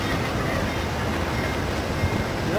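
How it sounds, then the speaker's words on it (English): Two Amtrak passenger trains pass at night in Joliet, Illinois, making a continuous broad rumble and rail noise at steady loudness. "And two Amtrak trains passing in the night."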